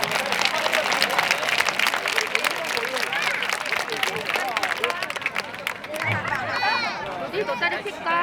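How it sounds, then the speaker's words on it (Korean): A crowd at an outdoor protest rally against a lead smelting plant in Yeongju bursts into loud, sustained applause with scattered cheers for about six seconds before it fades as voices take over. "여러분들 뜨거운 박수 부탁드리겠습니다."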